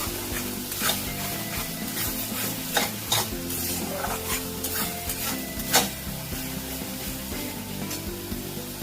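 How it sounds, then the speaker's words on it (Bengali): Masala with ginger and garlic is stir-fried for an egg curry: a spatula scrapes and rubs against the pan in repeated strokes over a constant close sizzle, with a few sharper knocks and no talking. "মশলাটা খুব ভালো করে কষতে হবে বন্ধুরা, যাতে আদা রসুন কাঁচা গন্ধটা না থাকে।"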